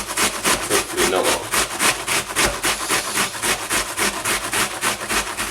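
An onion grated by hand for saffron risotto, a loud close rhythmic rasping with quick regular strokes continuing throughout.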